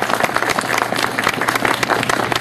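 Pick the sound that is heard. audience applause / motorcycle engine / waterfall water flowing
audience applause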